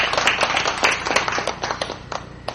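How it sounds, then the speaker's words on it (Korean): Audience at a religion forum clapping in welcome, a loose patter of individual claps that is busy at first, then thins to scattered, distinct hand claps. "박수 부탁드립니다."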